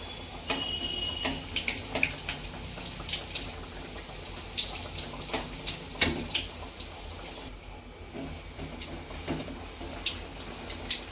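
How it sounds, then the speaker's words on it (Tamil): Veg puffs frying in hot oil make a continuous crackling sizzle with dense pops and spits, moderately close and steady for the whole stretch, with no voices. "எண்ணெய் சூடானதும் இதை போட்டு எடுத்துக்கலாம்."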